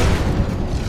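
Explosive impacts from a Shredder minigun in a video game, a dense, loud low-end rumble of overlapping booms that fills the short moment without a break.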